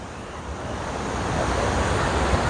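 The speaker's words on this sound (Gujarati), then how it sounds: "જો ધનજીતનો ધોધ છે" Dhanjit waterfall in the Gir forest pours with a steady, dense rushing roar that swells slightly and carries on alone with no voices.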